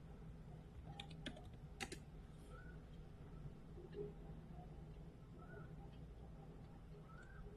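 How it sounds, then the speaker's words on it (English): Quick bursts of computer keyboard typing come in short clusters near the start, fairly close and crisp, over a steady low room hum with faint bird chirps in the background. "let's type here scenery."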